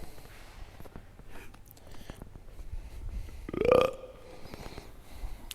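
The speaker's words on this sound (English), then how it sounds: "Just a little burp." A short, throaty burp rises out of a garage workshop during hydraulic cylinder rebuilding on an IH 175C crawler track loader, standing out briefly from the low shop noise around it.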